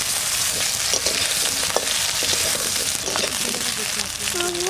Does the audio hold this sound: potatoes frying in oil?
yes